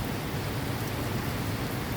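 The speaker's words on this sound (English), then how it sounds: "It's really hot out here, but it's raining" Steady rain falls outdoors on a hot day, a dense, even hiss of drops with no breaks, close and moderately loud with no voices over it.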